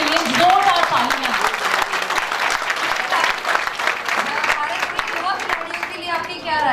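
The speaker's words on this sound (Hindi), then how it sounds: "फोगाट के लिए जोरदार तालियां" Hearty audience applause for wrestling coach Mahavir Singh Phogat, loud dense clapping sustained throughout with a voice briefly heard over it.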